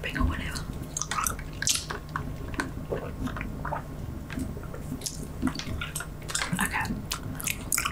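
Gum chewing up close for ASMR: wet, squishy mouth clicks and smacks come in quick irregular bursts with small sharp snaps, set against a faint low background hum.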